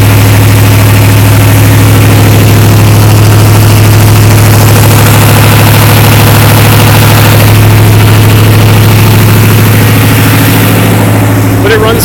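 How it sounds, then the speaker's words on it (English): A 1979 Pontiac Parisienne with a swapped V8 idles loudly and close by, a steady deep rumble that holds throughout while it warms up, with a brief rise near the end. "awesome power of the V8"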